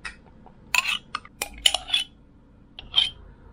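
Yogurt and milk stirred together in a dish for homemade yogurt, giving several short clinks and scrapes of a utensil against the dish, close and fairly quiet, in irregular bursts with pauses and no talking.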